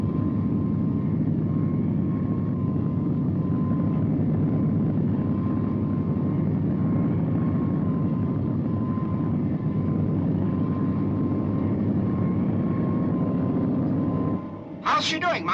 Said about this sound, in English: Selecting vertical takeoff now.